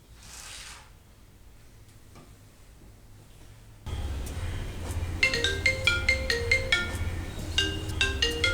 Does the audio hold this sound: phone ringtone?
yes